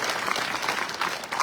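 Dense crowd applause at a farmers' protest meeting in a village, a loud, steady wash of many hands clapping together that lasts briefly without any speech over it.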